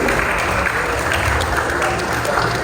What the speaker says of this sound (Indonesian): boleh berikan tepuk tangan yang meriah sekali lagi